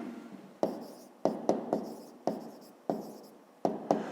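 Pen or pencil scratches on paper while working out a fifth-grade math exercise on volume, in a series of short strokes separated by brief pauses, close and quiet.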